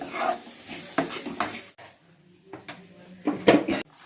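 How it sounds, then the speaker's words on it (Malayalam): Coriander powder masala with browned onion being stirred in a pan for a crab curry, heard as repeated clattering spoon scrapes against metal over a light sizzle, loud and close. "മല്ലിപ്പൊടിയാണ് ഇടുന്നത്. ഇനി നല്ലപോലെ ഇത് ഇളക്കി കൊടുക്കണം നമുക്ക്."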